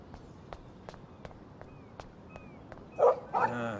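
A dog in the Life is Strange video game gives a few sharp, close barks and yips near the end, after a stretch of soft, regular footsteps.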